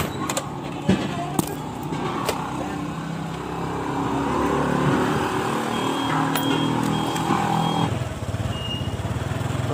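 A motorcycle engine idles and runs steadily at a roadside fuel stop, a continuous close mechanical drone with a few sharp clicks and knocks early on and the sound dropping off near the end.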